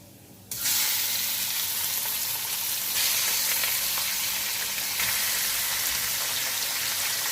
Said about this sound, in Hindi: अब मैं इसमें डाल दूंगी चिकन।